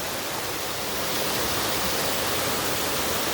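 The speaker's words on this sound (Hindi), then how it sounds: "नीचे बिल्कुल फॉल्स का पानी है" Waterfall water rushes below a slippery bridge of roots at the Lagoon waterfalls in Meghalaya, a dense, steady hiss that stays loud and unbroken throughout, with no voices over it.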